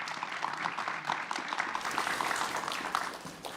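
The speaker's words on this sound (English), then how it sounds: "Please, a round of applause for our guests." Audience applause at an international cooperation conference, a dense, steady patter of many hands clapping that fills the room, fairly distant and even, continuing without a break for several seconds.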